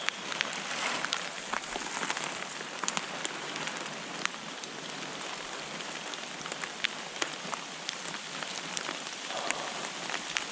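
Steady rain falls through a Carpathian mountain forest, a dense even hiss of drops on leaves and ground with scattered louder drips, continuous and without voices.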